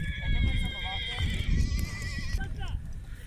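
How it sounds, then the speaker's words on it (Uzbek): Horses whinny at a kopkari horse game in a village, with high neighs rising over crowd noise and nearby voices talking. "Mana bu otlar."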